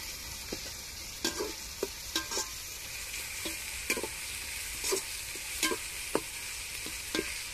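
Tomatoes sautéing in a pan, a constant gentle sizzle under regular spatula scrapes and knocks that land every second or so, close and clear with nobody talking.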